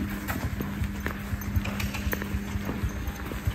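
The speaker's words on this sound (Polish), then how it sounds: "Już ten koń ledwo idzie." A horse walks slowly under a rider at a riding lesson, its hooves giving a steady, fairly close clip-clop in an even rhythm, with faint background sounds and no clear speech.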